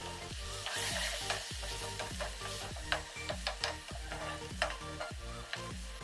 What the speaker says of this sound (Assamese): ইয়াত মই এতিয়া দি দিম মগু দাইলখিনি তিয়াই থোৱা।